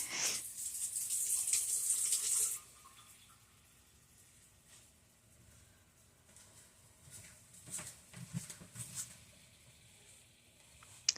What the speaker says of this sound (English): And I just gotta take that bowl to the sink and rinse my hands again.